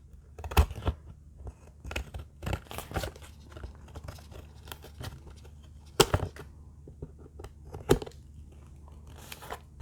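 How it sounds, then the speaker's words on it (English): Irregular crisp scissor snips and crunchy cuts, close up, with sharp clicks scattered across a quiet background, while making a Halloween door sign. "I'm using my scissors now."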